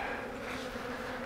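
A tiny, weakened swarm of bees in a hive troubled by wax moths hums in a dense, steady buzz that stays close and even throughout, with no voices.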